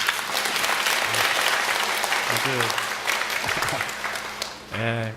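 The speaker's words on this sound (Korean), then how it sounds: "우리 이분들 위해서 박수를 보내주도록 합시다." Congregation applauding during a Catholic Mass in a church, a dense, steady wash of clapping from many hands filling the room, with brief voices and a few tonal sounds poking through near the end.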